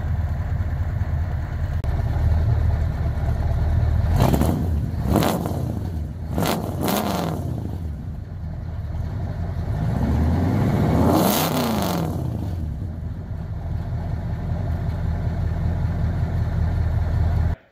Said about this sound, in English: I took a perfectly good running engine out of one car, put it into another, and it still runs good